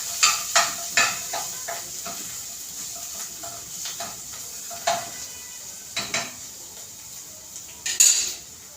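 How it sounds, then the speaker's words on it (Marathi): Ground masala paste roasting in oil in a pan for a village-style egg curry, with faint sizzling under repeated soft scrapes and taps of a spoon stirring against the metal. "वाटणार आपलं तेल सुटेपर्यंत भाजायचं"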